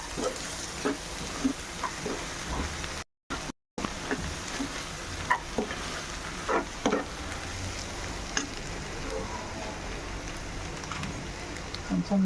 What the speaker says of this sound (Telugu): కారం వేసుకుని తిప్పేస్తున్నాం.